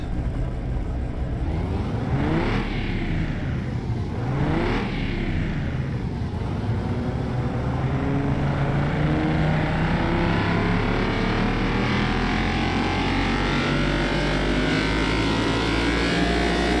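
A 1992 Jaguar XJ220 engine on a dyno in Car Mechanic Simulator 2021 revs loudly, with two sharp rising-and-falling blips early on, then a long steady climb in pitch as it pulls continuously to high revs.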